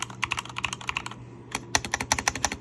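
Mechanical keyboard with red switches being typed on, a quick run of crisp clacking keystrokes, close and clear, with a brief pause midway before the typing resumes; no voices.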